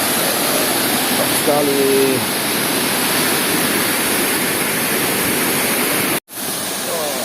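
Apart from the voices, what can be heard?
waterfall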